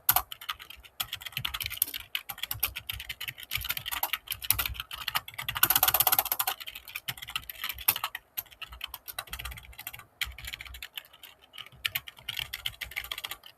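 Steady rapid typing on a computer keyboard while writing the basic code for a sorting algorithm, dense clattering keystrokes running throughout with brief pauses, close and moderately loud.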